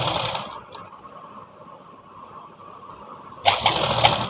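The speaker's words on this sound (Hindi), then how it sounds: "एकदम आराम से इसको सिलाई लगानी है, ताकि ज़रा सा भी पीस खींचे ना" A sewing machine stitches a Sabyasachi-style blouse in two short runs of steady whirring, separated by a long quiet pause.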